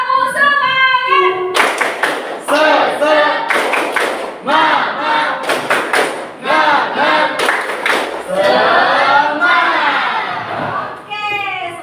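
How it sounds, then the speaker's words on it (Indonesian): A classroom group does the rhythmic "tepuk semangat" spirit clap, loud bursts of patterned claps alternating with chanted voices and shouts, close and energetic. "biar semangat kita lakukan tepuk semangat ya"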